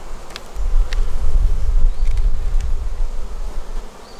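Honey bees buzz loudly at an open beehive, a dense, close, continuous hum with individual bees droning past near the microphone.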